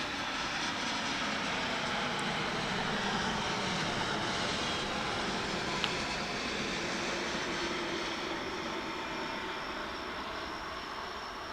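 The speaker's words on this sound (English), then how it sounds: "coming in from Sao Paulo, Brazil on Runway DFW. It's a 787 Dreamliner." A Boeing 787 Dreamliner jet arrives at DFW International Airport, its engines a loud, steady, broadband roar that holds for the whole stretch and swells faintly, heard alone without voices.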